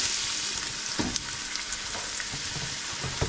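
Garlic and onion fry in a pan with a steady, moderate sizzle and a few sharp scrapes and clicks from stirring, no voices.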